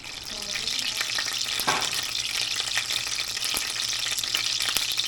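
Steady, loud sizzling and crackling of food frying in a hot pan, with occasional stirring clatter, in a Filipino home kitchen.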